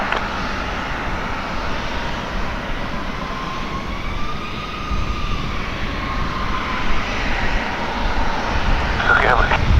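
An airplane taking off at Portland airport makes a loud, steady engine roar that slowly rises and shifts in pitch, heard from a distance with a radio voice talking over it.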